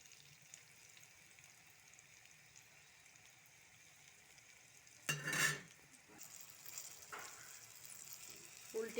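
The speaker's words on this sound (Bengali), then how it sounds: "এভাবে আস্তে জালে ভেজে নিতে হবে।" Eggplant fritters (beguni) frying slowly in oil, a steady soft sizzle throughout with a louder burst of clatter and spatter midway as the pieces are stirred or turned.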